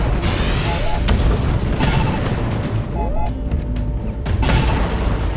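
Deep booming explosions from a drone strike video game roll on continuously, with repeated blasts over a dense, rumbling battle bed and faint game radio voices.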